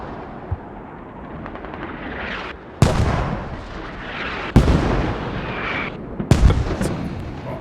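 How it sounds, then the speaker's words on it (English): Mortar rounds striking close by in a squad-based online shooter match: loud, booming impacts land about every couple of seconds, each followed by a rumbling, debris-filled tail with no gap between blasts. "I do hear mortars are hitting close to ARK Fob."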